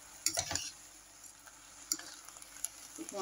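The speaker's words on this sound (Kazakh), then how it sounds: "Сарғайғанша қуырып алам" Garlic frying in a pan for Kazakh potato samsa, with a soft continuous sizzle broken by a few sharp stirring scrapes and clinks of a utensil against the pan, fairly quiet with no talking.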